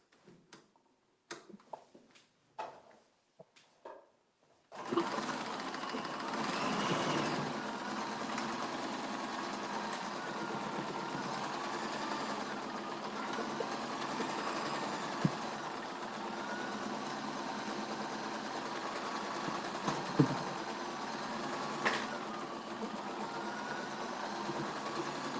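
Sewing machine stitching a quilt block for a flying star pattern, a steady continuous motor whir after a few opening clicks and taps, close and even throughout.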